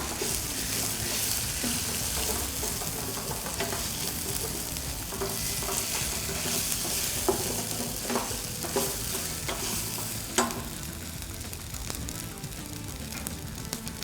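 Ginger garlic paste sizzling in a pan, a steady fry under scattered scrapes and clicks of a spoon stirring, close by and without voices.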